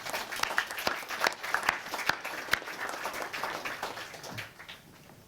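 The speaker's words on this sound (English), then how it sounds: "a big applause for our award winners" A room full of people applauds award winners at the Cliff Bellamy Awards 2025. The sustained clapping is dense and fairly loud, with sharp individual claps standing out, and it tails off toward the end.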